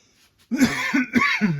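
A person coughs several times in quick succession, close and fairly loud, harsh bursts with brief gaps, after a moment of near silence.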